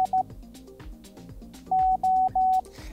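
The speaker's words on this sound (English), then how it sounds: "For reference, 5 words per minute sounds like this." A steady single-pitched tone beeps out slow Morse code at 5 words per minute: a few short dots, a pause, then three long dashes, over faint background music.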